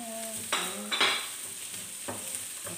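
Onions, ginger and garlic fry in a hot pan with a steady sizzle, broken by a few close scraping stirs of a utensil against the pan, no voices present.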